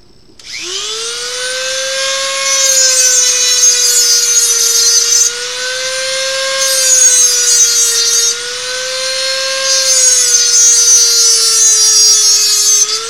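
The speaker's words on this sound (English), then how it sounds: "Probably grind this side off first. Maybe the nut will come off." An angle grinder cuts into a seized nut, a loud steady high-pitched whine with a sweeping tone that runs continuously with no speech.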